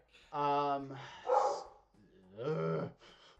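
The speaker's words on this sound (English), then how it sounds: "What is he barking at?" A dog named Zachary gives a few sharp indoor barks in two bursts, close and fairly loud, with a yelping, voice-like quality.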